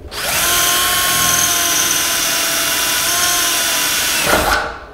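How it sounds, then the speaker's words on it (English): A power drill bores a bolt hole through a car's body during a solid shifter bushing install, a loud steady whine for about four seconds that ends with a brief surge as it breaks through. "I did indeed get the hole drilled right beside it"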